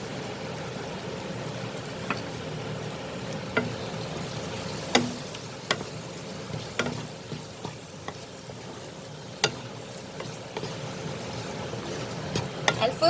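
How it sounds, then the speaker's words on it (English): Masala spices for chole fry in a pan with a low, continuous sizzle, broken by occasional light taps and scrapes of a spoon, fairly quiet and close. "Now I have fried these masalas."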